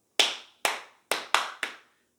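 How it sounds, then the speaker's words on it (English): Five crisp hand claps ring out close by in an uneven rhythm, two spaced apart and then three more in quicker succession, each followed by silence. "And everybody in class clapped their hands too."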